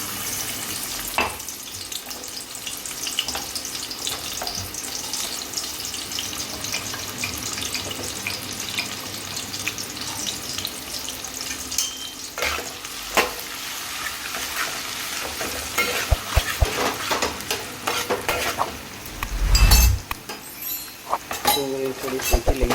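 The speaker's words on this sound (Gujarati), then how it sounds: "ડુંગળી થોડી શેકી લઈએ" Onion, garlic and ginger frying in oil in a home kitchen for mung dal, a steady moderate sizzle with stirring scrapes and occasional utensil clinks, with someone talking over it.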